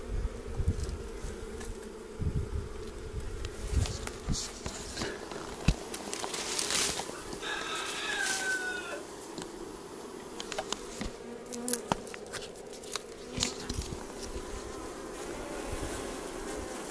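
Honeybees drone steadily around a crowded hive, a dense continuous buzz with individual bees passing close, plus faint scattered rustles and taps.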